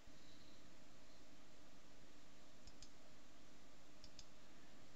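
A computer mouse clicking twice in pairs, small sharp clicks close by over a faint steady background hiss, with no talk.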